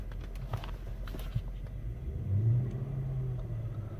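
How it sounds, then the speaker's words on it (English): Engine of a 2007 Mercedes-Benz GL450 SUV revving, a low steady rumble that swells around the middle of the clip and then holds at a raised idle, close and alone without talk. "Car revs up really nicely."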